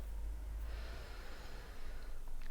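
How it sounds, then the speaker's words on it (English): A soft, steady inhale through the nose, close and quiet, lasting a couple of seconds with no talking. "You basically breathe in through your nose for a count of 4."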